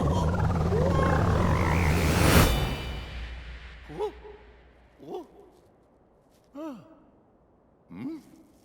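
Frog in the video game Super Mario Odyssey, croaking in several short separate bursts, each a rising and falling call, following a louder breathy whoosh and game music at the start.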